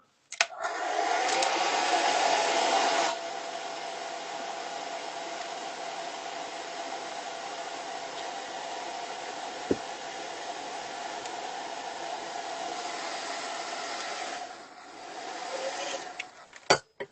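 A hair dryer blows steadily for over ten seconds, louder at first, then settling, with a click near the end.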